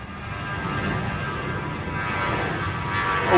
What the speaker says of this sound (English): 3 747s in the next 6 minutes. It's coming in on this runway.